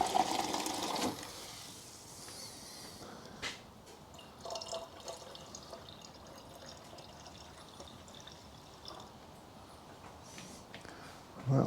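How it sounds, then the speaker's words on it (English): Water is poured into the coolant expansion tank of a 2005 Ford Fiesta 1.25 petrol, a quiet trickling and dripping close by, with a few faint clunks and a louder pour at the start and end. "I'll put a bit of water in there to top that up."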